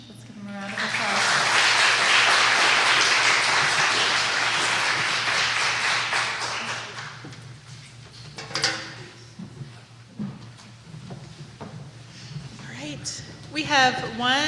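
Audience at a nursing colloquium session giving presenters a round of applause, a loud burst of clapping for about six seconds that fades out, followed by scattered taps and room noise.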